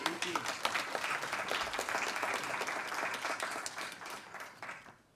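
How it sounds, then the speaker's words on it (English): A lecture hall audience applauds after a speaker at an annual public lecture, the clapping full and sustained at first, then thinning and fading away at the end. "another round of applause, please, for him"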